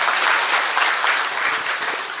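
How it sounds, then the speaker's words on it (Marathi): Loud, dense applause from a crowd gathered at a village religious week celebration in Nathra, steady sustained clapping filling the whole stretch with no voices over it. "त्यांच्यासाठी सगळ्यांनी एकदा जोरदार टाळ्या वाजवा"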